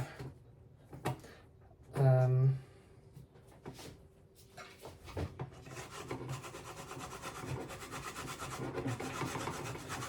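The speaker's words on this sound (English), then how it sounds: "I still have to do some sanding or filing here" A file rasps against the wood of a 1950s Armin Paulus guitar in steady back-and-forth strokes, close up, after an earlier knock and some handling noises.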